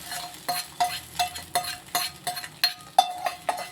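Dried fish curry with fenugreek tempering is stirred in a pot, about a dozen rhythmic scraping strokes of a spoon against the metal, close and clear with no talk.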